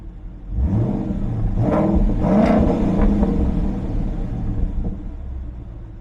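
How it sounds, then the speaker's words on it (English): A 2012 Ford Mustang Boss 302 Laguna Seca's deep, rumbling V8 exhaust revs up several times in quick blips, loud and close from behind, settling back to a throaty idle between pulls. "this will be the exhaust note as if you were standing behind the vehicle"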